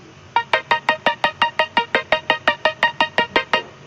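A resampled synth pluck, squashed by heavy compression, repeats about sixteen short, bright, evenly spaced notes in a quick steady pulse, each with a sharp attack and fast decay, close and alone.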